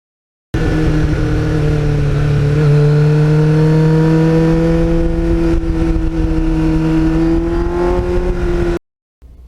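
A 1989 Kawasaki GPX750R motorcycle fitted with a Muzzy muffler revs loud and close, its engine note climbing and holding steady in pitch for about eight seconds before cutting off abruptly.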